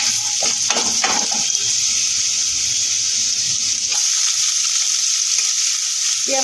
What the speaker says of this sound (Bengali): এবার আমি এর মধ্যে পেঁয়াজটা অ্যাড করবো